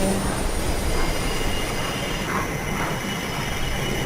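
A train rushes past in the video game Mirror's Edge, a loud continuous rumble and roar with squealing wheels that fills the whole stretch without a break.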